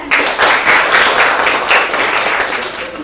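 Students in a classroom applauding together, a dense, continuous burst of clapping that holds steady at close range for about three seconds with no talking.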